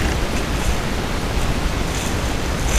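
Gusty wind and choppy whitecapped lake water on Lake Opeepeesway, a steady loud broadband rush with waves lapping continuously, no talk.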